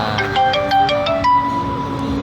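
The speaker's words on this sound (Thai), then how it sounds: "เมื่อกี้ก็มีสายเข้ามานะครับ ก็เลยขาดตอนนะครับ" A mobile phone ringtone from an incoming call plays as a loud melodic sequence of electronic notes inside a Korean barbecue and shabu restaurant, then cuts off abruptly.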